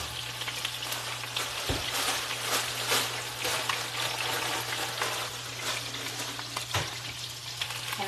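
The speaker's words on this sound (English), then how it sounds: "we got our oil fried fries" Fries crackling steadily in hot oil, a dense continuous sizzle close up with a low steady hum beneath and a couple of brief knocks.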